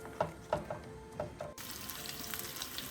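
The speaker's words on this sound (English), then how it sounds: "I've added some extra virgin olive oil to my pan, and I'm going to add in all my zucchini" Zucchini hits extra virgin olive oil in a pan: faint crackles and pops at first, then a sudden, sustained broadband sizzle that carries on to the end.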